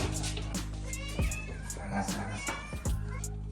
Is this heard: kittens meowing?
yes